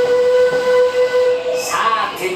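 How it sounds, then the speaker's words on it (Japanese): Western River Railroad steam locomotive train running along its track, with a long sustained whistle tone sounding loudly over rumbling rail noise and hissing bursts, heard close. "このウエスタンリバー鉄道がただの蒸気機関車だと思ったら大間違い"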